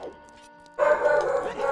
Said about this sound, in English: Hope you can't hear the dog, because I can't really stop him right now.